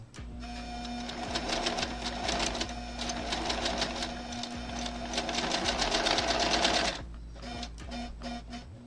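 A sewing machine stitches quilt fabric for a diamond-in-a-square block, running in a loud, steady buzzing burst for about seven seconds before stopping, followed by a few short mechanical clicks.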